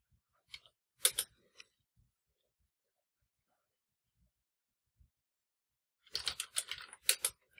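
Typing a terminal command on a computer keyboard, a couple of brief clusters of quick close keystrokes separated by silence.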